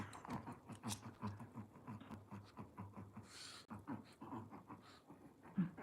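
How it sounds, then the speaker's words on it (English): A dog panting rapidly and steadily close by, with occasional soft whimpering whines mixed into the rhythmic breathing. "She is the noisiest dog."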